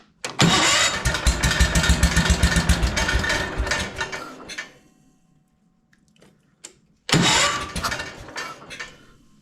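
A Wheel Horse tractor's starter cranks the engine in a loud, rapid churning burst of several seconds, stops, then cranks again after a pause, close up with no talk.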